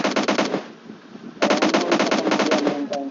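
Automatic weapon fire in PUBG Mobile comes in two rapid bursts of loud, crisp shots, a short one first, then a brief pause and a longer sustained burst.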